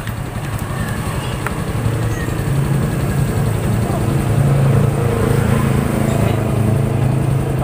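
A Yamaha Jupiter MX motorcycle engine idles steadily and close by, a low pulsing rumble running throughout, with someone talking over it.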